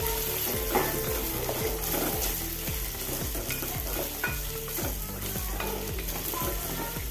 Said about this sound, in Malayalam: ഒരു നാല് ടേബിൾ സ്പൂൺ വരെ എണ്ണ ഒഴിച്ച് കൊടുത്ത് മഞ്ഞളിട്ട് കൊടുക്കാം മഞ്ഞളൊന്ന് വാട്ടിയെടുക്കണം